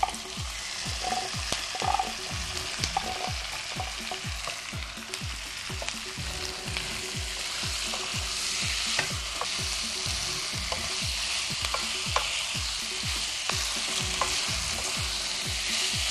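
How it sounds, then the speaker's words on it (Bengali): Marinated chicken pieces fry loudly in a hot pan, with a continuous dense sizzle and a steady rhythm of spatula scrapes as the meat is stirred throughout, close and without talk. "এখন আমি ফ্লেভারটা বের হওয়ার মতো ম্যারিনেট করা মাংসটা দিয়ে দিচ্ছি"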